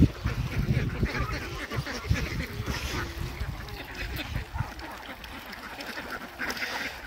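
Ducks on a river give scattered, overlapping quacks and honks at middle distance over a steady wash of flowing water and outdoor noise.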